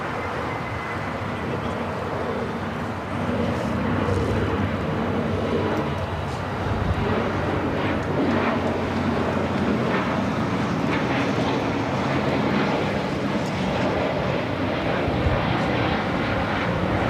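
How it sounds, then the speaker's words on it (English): Viva Aerobus Airbus A320neo departing LAX for Guadalajara, a steady broadband jet roar that holds throughout at moderate distance, with faint voices and radio chatter underneath. "Viva Aerobus Flight 511 heading to Guadalajara. It's an A320neo."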